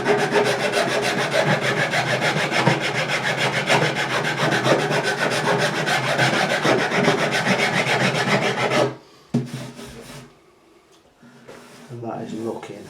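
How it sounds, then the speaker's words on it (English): Continuous close scratching of sandpaper on a wooden guitar neck during repair of an Acoustic Yamaha APX 500, rubbing steadily for about nine seconds, then stopping, with a few short strokes and faint sounds afterward. "I'm going to get some sandpaper on there."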